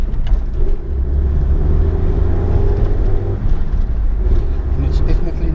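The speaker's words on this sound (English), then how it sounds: "on board the Mazda 323, just taking it for a drive to listen to the road noises" Cabin noise inside a moving Mazda 323 on the road: a loud, steady low rumble of tyres and wheel bearings with a droning hum, continuous for the whole stretch.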